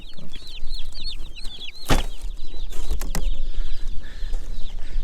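Cornish Cross chicks chirp and peep in a steady high-pitched chorus close by, with a few louder clatters and bumps partway through and no talking.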